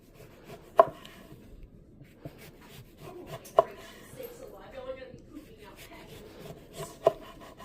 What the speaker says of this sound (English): We're gonna cut our orange right here.